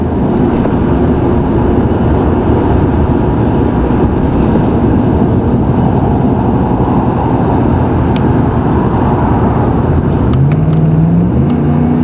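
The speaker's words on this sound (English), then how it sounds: "Here comes that Jeep. V6 Gutless Wonder." A V6 Jeep drives past with a loud, steady engine roar that rises in pitch as it shifts gears, sounding close and continuous with no talk.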